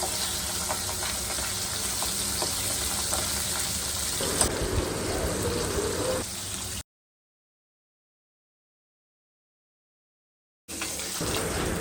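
Pabda fish frying in hot oil in a wok, a steady dense sizzle for several seconds, a noticeable cut to silence midway, then the sizzle resumes.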